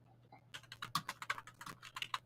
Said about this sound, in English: No, here's the typing.